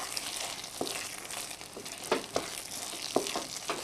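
A sticky rice mixture called inangit cooks in a pan with a faint, steady sizzle, and the spoon stirring it scrapes and knocks now and then, close and quiet.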